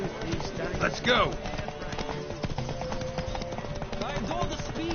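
Rhythmic clip-clop of galloping hooves in a horse race in The Witcher runs throughout, with game music and a voice speaking over it.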